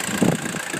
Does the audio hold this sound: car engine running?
yes